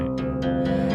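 A low open string on a guqin resonates with a warm, sustained tone, and a few soft scraping attacks sound over it.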